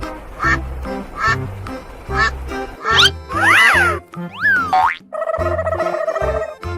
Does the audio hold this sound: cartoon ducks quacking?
yes